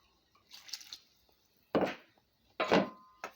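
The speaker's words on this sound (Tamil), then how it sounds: "கொஞ்சம் தண்ணி கலந்து ஊற்றிக்கலாங்க." Water from a rinsed mixer jar is poured into yellow pumpkin sambar cooking in a pot, coming as a few short, quiet splashing pours close by with pauses between.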